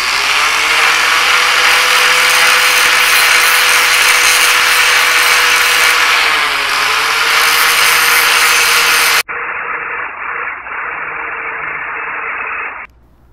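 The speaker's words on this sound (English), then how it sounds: "Now that you have grinded the head of the pin" Grinder cutting down the head of a link pin on a Yamaha FZ-09 motorcycle chain, a loud, steady, close high-pitched grinding roar that dips briefly, then shifts to a thinner, muffled whine before stopping.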